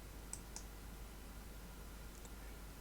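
A computer mouse clicks on an OK button in noise-mapping software, giving a few soft, brief clicks spread over a quiet background hiss.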